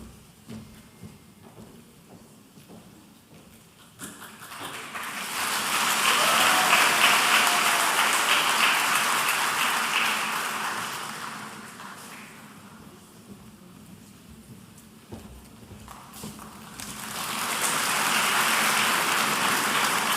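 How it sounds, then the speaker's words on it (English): Muted applause at a university graduation ceremony swells in two waves of scattered clapping across a large hall, quiet at first, then sustained, fading, and rising again. "we understand fairly muted applause for the first person to go across the stage"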